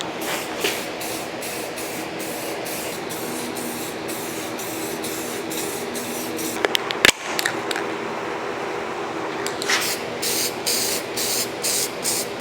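Rust-Oleum spray paint hissing from an aerosol can onto the rear axle of a 1950 Chevy, steady close bursts of spray with short pauses between passes.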